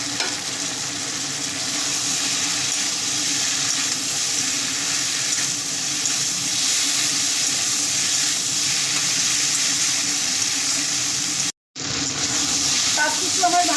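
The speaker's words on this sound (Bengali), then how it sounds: "এখন ভেজে রাখা চুনো মাছগুলো দিয়ে দেবো।" Small pre-fried chuno fish fry in a pan with tomato and potato, giving a loud, steady, close sizzling hiss that runs nearly unbroken, with one brief dropout near the end.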